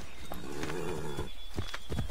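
Horse hooves in the video game Assassin's Creed 3 clop in a steady walking rhythm, close and moderately loud, with a low harmonic drone running underneath.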